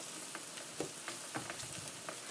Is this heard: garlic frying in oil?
yes